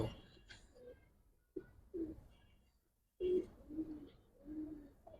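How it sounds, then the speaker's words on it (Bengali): Red Giribaz pigeons coo in soft, low bursts, a few separate throaty calls with quiet gaps between them, close by. "একদম লাল গিয়ার কবুতর ভাই"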